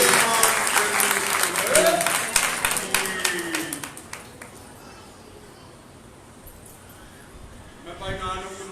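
A congregation at a Sunday service claps together, a dense burst of applause that thins and fades out, followed by a short bit of talk.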